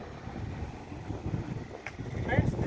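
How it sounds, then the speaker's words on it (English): Wind buffets a microphone outdoors on a breezy school terrace beside a bank of solar panels, a steady low rumble of gusts that swells toward the end, with no clear speech over it. "Now this atmosphere is little windy, so maybe the wind disturbance."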